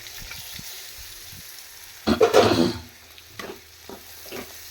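Okra sautéing in oil in a pan, a soft low sizzle with a louder burst of stirring in the middle and a few light scrapes afterward, close and without talk.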